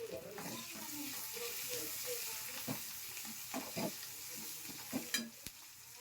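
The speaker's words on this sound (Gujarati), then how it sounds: "પછી થોડા કડી પત્તા નાખશું। આમાં પહેલા આપણે લીલા કાપેલા મરચાં નાખશું," Curry leaves and chopped green chilies sizzle in hot oil with a soft, steady crackle, broken by several short stirring clinks and spatters.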